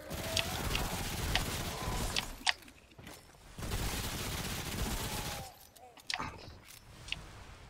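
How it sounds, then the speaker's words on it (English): Pistol fire from the Remnant video game comes as a scattered series of sharp cracks spread over several seconds, mixed with combat noise and a voice talking in the background. "this little pistol shreds"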